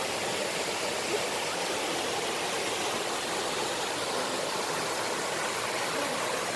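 A waterfall and flowing stream at Than Ngam waterfall roar as a dense, steady wash of water noise, loud and continuous throughout with no pauses and no talking.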